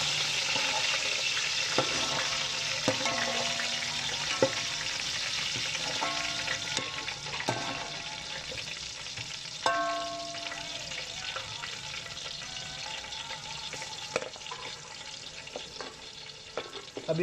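Steady frying sizzle of onions and chillies in a hot pan, with occasional clinks and scrapes of stirring; no voices.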